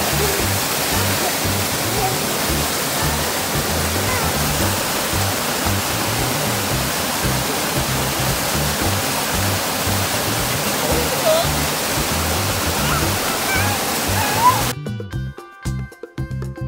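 Waterfall at Shenandoah National Park pours with a steady, loud broadband rush that fills the scene almost to the end, then cuts off abruptly into a few brief muffled knocks.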